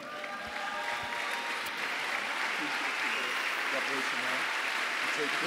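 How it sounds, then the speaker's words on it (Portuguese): Audience applause fills a church worship service in Brazil, a dense steady clapping from a large crowd that holds loud and even throughout, with no talking over it. "De pé e aplaudir ao Senhor pela vida do Sean, por favor?"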